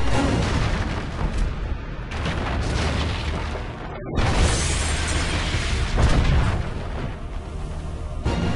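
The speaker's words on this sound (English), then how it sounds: "I just love the way the ship slowly shatters before it explodes." Loud rumbling crashes and booms roll on continuously as a ship slowly shatters, with a sudden cut and a fresh blast of explosive, crumbling destruction rising again as it explodes.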